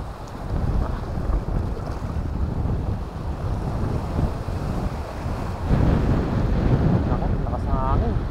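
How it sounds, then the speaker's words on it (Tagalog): Strong sea wind buffets the microphone on a small fishing boat, a loud, steady roar with waves washing against the hull and a brief reel-like whir near the end. "Nako, lakas ng hangin."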